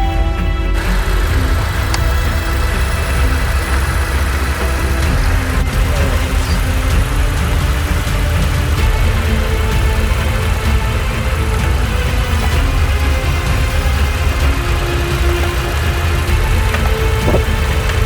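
A car engine idles after starting, a loud steady rumble that runs unbroken throughout with slight fluctuations.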